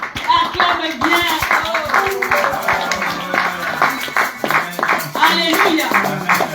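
A church congregation clapping in rhythm to acclaim the Lord, a steady run of sharp close claps mixed with voices singing or calling out over them.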